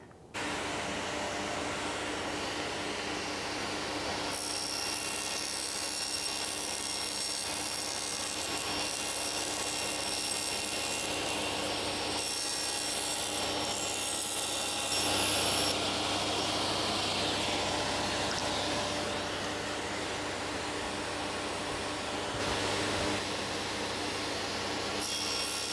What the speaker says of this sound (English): I'm going to run these strips through the saw with a 30 degree bevel on them